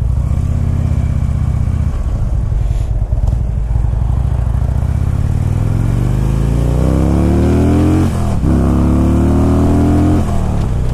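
A Harley-Davidson Road King with a 96 cubic inch engine rumbles loud and close, its deep throb rising and falling through several throttle blips and revs, with no talk over it.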